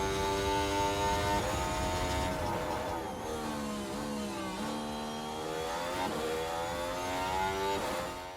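F1 car from F1 Manager 2024, driven by Giovinazzi on a final qualifying attempt, screams at high revs with a steady harmonic engine whine, pitch dropping and climbing through gear changes, loud and continuous with no talk.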